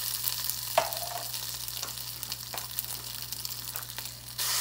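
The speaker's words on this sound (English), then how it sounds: "And you're just gonna allow the tomato paste to cook in your oil like this." Tomato paste sizzles in hot oil left over from frying red snapper, a steady close hiss with a few sharp crackles and pops, no talk.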